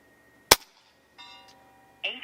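A single sharp crack from a JTS Airacuda Max .25 air rifle shot, loud and close, followed by a short pause and then someone speaking.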